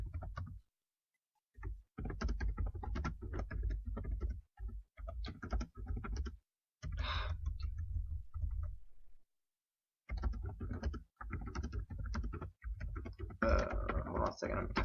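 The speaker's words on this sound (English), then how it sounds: "I'm typing" Close, rapid clatter of typing on a computer keyboard comes in bursts separated by short silences, with a few louder thumping keystrokes and some muffled noise near the end.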